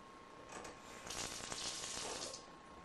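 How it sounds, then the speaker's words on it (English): Oatmeal pancakes sizzling in a hot pan, a steady broadband hiss that swells louder midway and then eases, heard alone with no talking. "I hope you can hear that, but it is sizzling, they're dancing, so it's ready."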